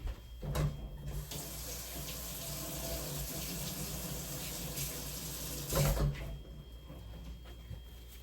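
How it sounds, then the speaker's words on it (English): Tap water runs steadily into a sink while a metal spatula is rinsed during apple cinnamon pancake cooking, with a louder gush near the start and again around six seconds, and a few soft clinks. "Let me rinse my spatula."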